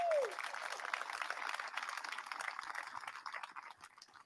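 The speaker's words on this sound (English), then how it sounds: "Let's give the band a round of applause here." Audience at a military garrison change of command ceremony applauds the band, a continuous wash of many hands clapping, moderately distant, opening with a short falling whistle-like tone.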